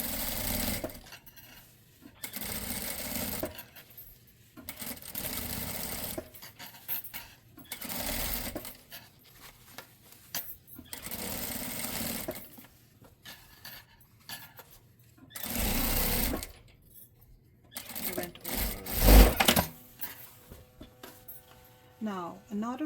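A domestic sewing machine top-stitching along a blouse seam edge runs in repeated bursts with short pauses between, close and clear, with a person talking during the gaps.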